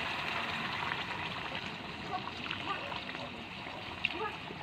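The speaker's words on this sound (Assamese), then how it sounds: "এতিয়া মই ইয়াত গৰম পানী দি দিম।" Hot water poured into a pan of frying spices for a potato dish sends up a steady sizzling hiss and splatter that holds across the whole stretch at moderate loudness, with a sharp pop near the end.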